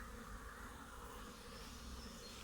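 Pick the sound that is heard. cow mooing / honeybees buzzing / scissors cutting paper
honeybees buzzing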